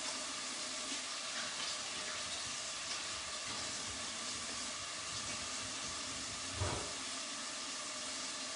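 Tap water runs steadily into a kitchen sink as hands are washed during a cooking class, a continuous close hiss with a brief louder splash near the end and no talking.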